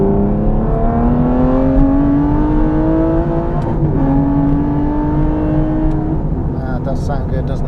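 A V12 Aston Martin Vantage S engine revs steadily with a rising, smooth pitch, loud and close, sustained throughout with a brief dip midway.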